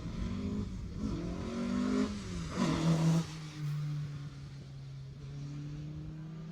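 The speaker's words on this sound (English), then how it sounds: "Another one of the ever popular Mark II Escorts coming through there." A Mark II Ford Escort rally car at the Jersey Rally approaches and passes, its engine revving hard and shifting pitch as it goes by, then fading into a steady drone in the distance.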